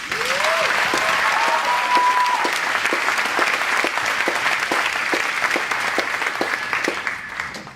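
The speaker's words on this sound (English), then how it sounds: "can we give all of us a quick round of applause?" An audience at the South Island School commencement ceremony claps steadily for several seconds. A whoop rises early, and the clapping thins into scattered, sharper claps as it fades.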